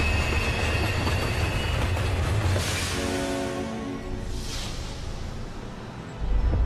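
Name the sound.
ghost train running in video game Earthlock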